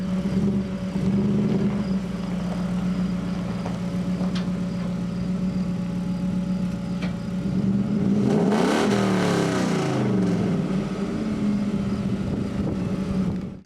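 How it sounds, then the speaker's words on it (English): Hemi-swapped 1951 Willys Overland Jeep pickup with a deep, steady idle rumble that surges into a loud rev around the middle and then settles back to a lumpy idle, close by, with no talking. "Give her a little rev."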